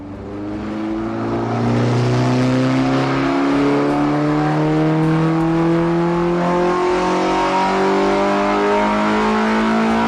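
A V8 motorcycle engine revs up and holds a loud, smooth, rising drone, steady and close, with no voices.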